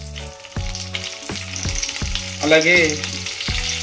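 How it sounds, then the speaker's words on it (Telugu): Cut green chillies sizzle and crackle loudly in a hot pan with curry leaves and turmeric, with rhythmic thumps of stirring throughout; a voice speaks briefly over the frying. "కట్ చేసుకున్న మిర్చీలు వేసుకొని మంచిగా మిక్స్ చేయాలి."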